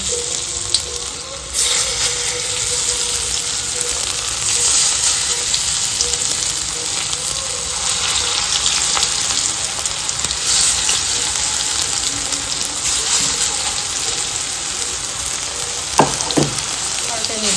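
Spinach pakora batter fries in hot oil with a loud, constant sizzle and crackle, steady throughout with a few faint clinks near the end.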